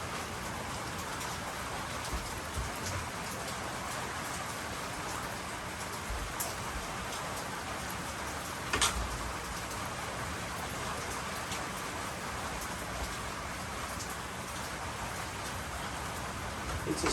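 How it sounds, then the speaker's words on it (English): Steady rain falling at night, an even, continuous hiss of drops on surfaces that stays constant throughout with a few slightly louder patters, no voices. "It's a steady rain now."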